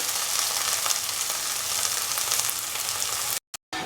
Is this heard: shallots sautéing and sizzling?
yes